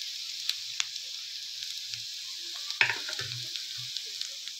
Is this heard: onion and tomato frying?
yes